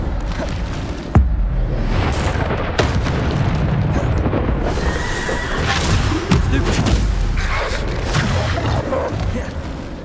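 Bombarda explosion spell from Hogwarts Legacy: a sharp blast near the start, then further heavy booms and whooshing bursts over a dense, continuous rumble of combat sounds, loud throughout with voices mixed in.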